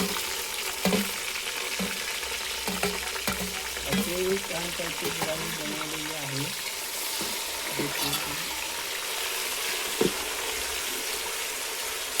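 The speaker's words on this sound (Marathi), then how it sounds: "यामध्ये आधी थोडं तेल टाकायचं आहे आणि याच्यामध्ये कांदा भाजून घ्यायचा आहे पहिल्यांदा" Onion frying in oil in a pan, a continuous sizzle with scattered stirring clatter, while faint voices and other background sounds of an outdoor village gathering murmur underneath.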